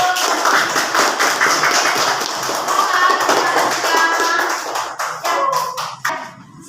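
Applause and clapping from students in a classroom after a group presentation, a dense stretch of many hands clapping that thins out toward the end.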